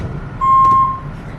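A van lets out a single loud, clear electronic reversing beep lasting about half a second as it is shifted through reverse. Low engine rumble runs underneath.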